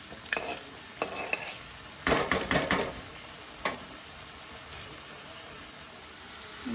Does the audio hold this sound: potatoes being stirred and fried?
yes